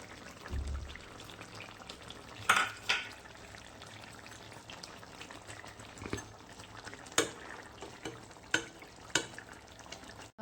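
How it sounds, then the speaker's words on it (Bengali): Puti fish frying in a pan with boiled potatoes and aubergine in a village kitchen, a faint bubbling sizzle punctuated by several sharp clinks and stirring knocks, with no voices. "এবার আমি মাছগুলো দিয়ে দিচ্ছি"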